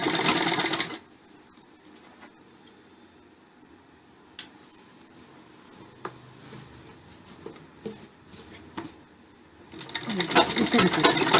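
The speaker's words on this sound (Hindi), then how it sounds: "इसको कपड़े को ऊपर करके आपने इसके ऊपर एक सिलाई देनी है इस तरीके से।" A sewing machine stitches along the belt of a salwar, running in a close, loud burst at the start and again at the end, with quiet handling clicks in between.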